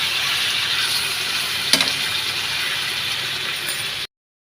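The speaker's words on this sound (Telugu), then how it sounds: "ఇదైతే చికెన్ ఫ్రై అండి" Marinated chicken pieces frying in a pan for chicken biryani, a continuous loud sizzle with one clack of a utensil partway through, then a sudden cut to silence.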